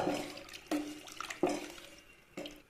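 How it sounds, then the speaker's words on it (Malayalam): Tomato cooking water is poured into a pot of rasam in a kitchen, giving four separate close splashes and trickles at a soft level, with no talk. "തക്കാളി വേവിച്ചില്ലേ ആ വെള്ളം ചേർത്ത് കൊടുക്കാം"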